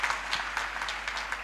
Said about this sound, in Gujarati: આપણે એક જોરદાર તાળીઓ પાડવી કે યસ અમે નપાસ થયા છીએ